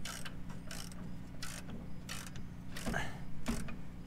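Channel locks tighten a ball joint on a 1959 Impala, giving a series of separate metallic ratcheting and squeaking scrapes at close range with short pauses between them.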